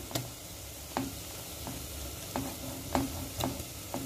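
Green chili, grated ginger and crushed garlic sautéing lightly with softened onions in a pan, a faint low sizzle broken by several sharp stirring taps and scrapes of a utensil, quiet and close.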